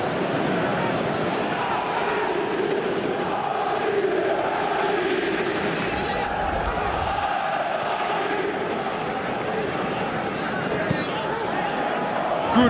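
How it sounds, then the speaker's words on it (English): Stadium crowd noise from a PES 2017 football video game, a steady loud roar of massed voices and murmur running throughout with no break, swelling slightly at moments. "Crowd appreciates good football all round there."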